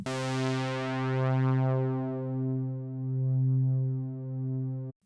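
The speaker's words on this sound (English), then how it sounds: "as you take your low pass down, it will mean it will cut out the highs of the sound" A synth saw wave has its low pass filter swept downward, so a buzzy, bright sustained tone steadily loses its highs and turns darker and rounder over about five seconds. It is a single held note with gentle swells and no speech.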